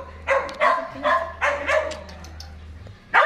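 A person imitates a dog barking with voice, several loud bark-like yelps in a rough rhythm over steady low hum, ending with one more bark after a short pause.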